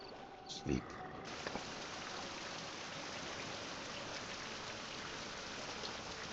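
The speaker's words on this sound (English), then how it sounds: "Rain." Steady, even rain in the survival game Survival: Fountain of Youth, a constant hiss of downpour on surfaces that fills the scene, with a brief knock or thud near the start.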